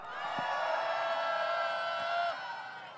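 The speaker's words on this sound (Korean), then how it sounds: "여러분의 힘찬 함성과 박수로 오늘 8차 대회를" Crowd at a candlelight protest rally in Gwangju sends up a loud sustained roar of shouting and cheering that fades near the end.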